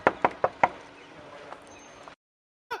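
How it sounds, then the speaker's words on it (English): Four sharp knocks on a door in quick succession, fairly close, followed by a quiet pause and one more faint knock near the end. "I'll give him a door knock."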